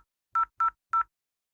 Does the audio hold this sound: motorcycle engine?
no